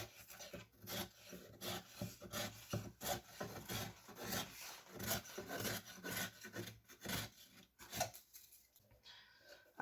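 Rasping, rubbing cuts through MDF board being trimmed during decorative work, a steady run of scraping strokes with short pauses, close and moderately loud with no voices.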